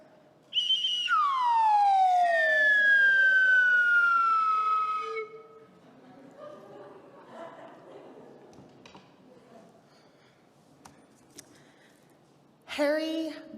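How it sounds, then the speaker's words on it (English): A slide whistle gives one loud, long tone that glides from high to low and then holds steady for several seconds in an indoor fellowship service. Quieter room sounds and murmurs follow, and a brief shrill burst comes near the end. "And now I will blow our slide whistle, inviting it to draw you deeper into the present moment"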